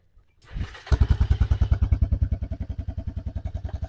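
A Coleman BT200X mini bike with a welded straight-pipe exhaust cranks to life and settles into a loud, fast, evenly pulsing idle, each exhaust beat sharp and close.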